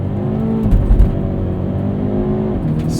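A 2021 Hyundai Veloster N with dual-clutch transmission holds a loud, steady engine drone at launch-control revs near 3,200 rpm before pulling away, heard from inside the cabin without talk.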